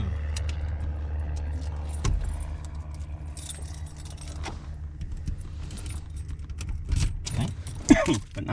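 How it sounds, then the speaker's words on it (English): Car keys jangle in the ignition with light metallic clinks and rattles, close and intermittent over a low engine hum, ending in a sharper jingle. "I have the keys. I'm putting that"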